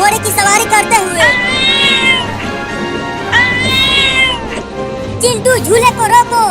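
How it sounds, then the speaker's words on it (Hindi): A cat meows loudly and repeatedly in long, drawn-out cries, close by, while people talk over it. "ये बिल्ली इतना बोल क्यों रही है?"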